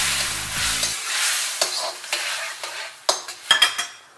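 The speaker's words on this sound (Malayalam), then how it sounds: "ഇപ്പോൾ അടുത്തായിട്ട് നമ്മൾ ഫ്രൈ ചെയ്ത് വെച്ചിരിക്കുന്ന ചിക്കൻ അതിനകത്തേക്ക് ഇടുകയാണ്." Pieces of fried chicken are tipped into a simmering chilli chicken sauce and stirred, giving a close sizzle with repeated scraping strokes and a few sharp spoon-on-pan knocks toward the end.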